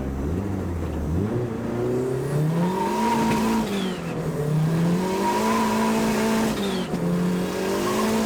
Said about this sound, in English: this is his fuel-altered dragster